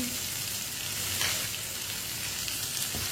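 Finely chopped tomatoes frying in a hot pan while cooking bitter gourd with chicken, a steady close hiss of sizzling with a soft scrape of stirring, no voices.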